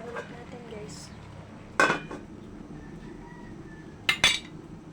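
Lid lifted off a cooking pot of ginataang gabi, giving two brief metallic clanks, one near two seconds and another near four, over a low steady kitchen background.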